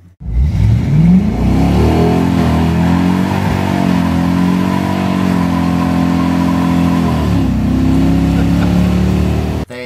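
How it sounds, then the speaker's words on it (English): A 1981 Ford with a Godzilla engine swap roars through a hard 0-60 mph pull, the loud engine note climbing steadily through the first gears with tire spin, close and continuous with no talk. "Now a 0 to 60 mile per hour pull with tire spin through the first few"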